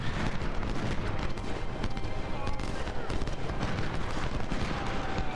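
Gunfire from an Ultimate General Second Bull Run battle plays as a dense, continuous crackle of massed musket volleys, steady and loud throughout with no pauses.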